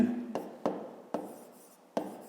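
A pen scratches across paper as a math exercise is written out, in short strokes with four sharp taps where the pen meets the page, close and fairly quiet, while someone speaks.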